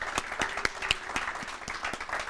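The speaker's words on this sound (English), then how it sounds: "So let's give them a round of applause." Applause for the winning high school at an early voting event, a modest group clapping with distinct individual claps standing out in an uneven, fairly quiet rhythm.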